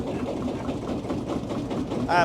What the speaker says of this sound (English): single cylinder 2-stroke diesel or crude oil engine tractor